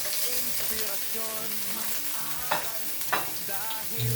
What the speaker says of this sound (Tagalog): Ingay na ang ating wok.